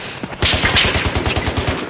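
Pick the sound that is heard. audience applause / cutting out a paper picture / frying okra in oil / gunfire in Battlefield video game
gunfire in Battlefield video game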